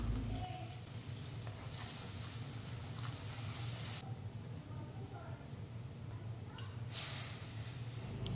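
A tomato, green chilli and coriander paste sizzles and fries in a pan for vegetarian aloo dum, a steady loud crackling hiss throughout, with brief stirring scrapes near the middle and end.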